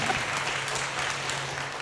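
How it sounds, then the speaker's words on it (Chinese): Steady, dense applause from an audience after a university guest lecture on the novel Dream of the Red Chamber, a continuous wash of many hands clapping at moderate distance with no voices over it. "让我们再次用热烈的掌声感谢白老师为我们带来的引人入胜的导赏"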